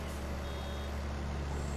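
Vehicle reversing beeps sound in Farm Simulator 22 on a baling job, steady and faint over a constant low engine drone.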